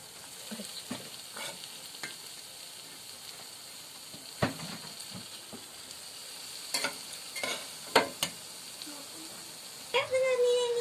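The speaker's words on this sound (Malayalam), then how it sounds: "അപ്പോൾ ഇനി നമ്മൾ ബീഫ് ഇതിലേക്ക് ഇടുകയാണ്. ബീഫ് ഇതിലേക്ക് ഇട്ട് കൊടുക്കുക." Beef tipped into a hot pan sizzles and fries, with scattered scrapes and stirring clatters throughout and a louder burst of frying near the end.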